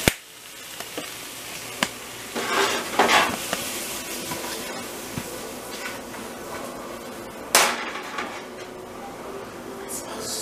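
Stir fry sizzling in red hot oil with red pepper flakes, for sweet and sour chicken: a steady crackling sizzle throughout, punctuated by sharp clanks and stirring bursts of a utensil against the pan, with faint talk in places.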